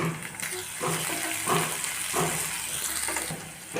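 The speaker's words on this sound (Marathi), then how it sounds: "आता ॲड करूया त्यामध्ये बारीक कट केलेला लसूण आणि अद्रक दोन हिरवी मिरची" Minced garlic, ginger and green chilli frying in oil in a pan: a steady, close, loud hiss and sizzle that runs without a break, with faint stirring scrapes through it.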